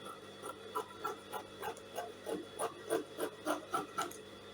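Scissors snip through excess lace fabric while trimming a pencil balloon sleeve, a quiet rhythmic series of about a dozen soft rasping cuts spaced roughly a third of a second apart, close up with no talking.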